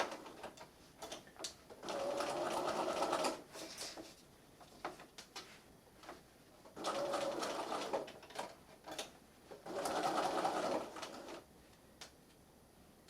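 A sewing machine stitches fabric for a plush bunny in three bursts of steady whirring, each a second or two long, separated by quiet pauses as the fabric is turned around curves.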